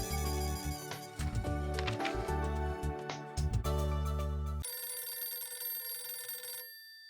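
A telephone rings in several bursts, fairly loud and close, with a sustained electronic tone trailing off at the end.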